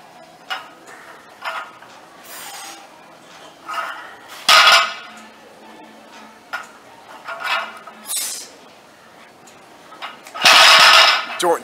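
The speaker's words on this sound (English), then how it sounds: "stop dropping the weight." A barbell weight dropped to the floor during a workout gives sharp metallic clanks and clatter, the loudest bursts near the middle and end. Scattered knocks fill the gaps between them, and there is no speech.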